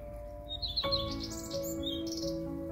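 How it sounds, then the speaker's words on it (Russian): Small birds chirp and tweet in quick, bright bursts over a faint steady background hum, fairly close and moderately quiet. "Птички поют, как в лесу."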